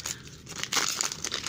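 A Topps Champions League 18/19 trading card pack wrapper is torn open, giving a short, close crinkling rip of foil that crackles in a few quick bursts.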